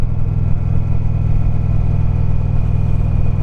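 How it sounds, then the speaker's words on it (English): A motorcycle engine revs loudly and steadily in second gear while climbing the winding Tail of the Dragon road, a close, continuous rumble with a throbbing exhaust pulse and no talking. "You can hear the engine revving."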